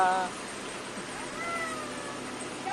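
A brief, faint meow sounds at the start, then soft background noise follows with another thin cry right at the end.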